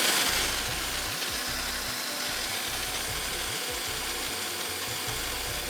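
A blender whirs through a ginger and mint lemonade with loud, continuous grinding noise and a rough, pulsing motor rattle.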